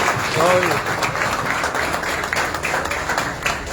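A crowd at a shop-opening event gives loud, sustained applause for Ustad Shehzada. The clapping fills the whole clip alongside a voice speaking over it.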